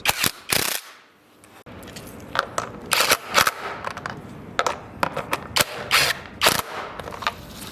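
A socket wrench tightens M8 bolts on a motorcycle's front fender bracket: rapid ratcheting clicks in short, uneven bursts, close and fairly loud, with brief pauses between strokes.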